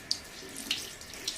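A makeup brush rinsed under a running tap: a steady low wash of water with a few brief splashy spurts as the bristles pass through the stream.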